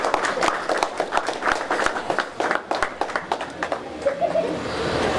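A burst of clapping from a group at an office opening, uneven and energetic, gradually thinning toward the end.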